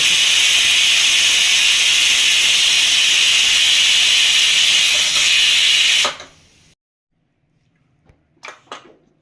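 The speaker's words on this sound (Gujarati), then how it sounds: "હવે તો કુકરમાંથી હવા નીકળી ગઈ છે" Steam hisses loudly and steadily from a pressure cooker after cooking khichdi, a broad continuous rush that cuts off abruptly after about six seconds, followed by near silence and a few faint clinks.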